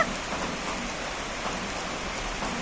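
Steady rain falls without pause, a dense, even patter that stays constant and fairly close throughout, with no voices.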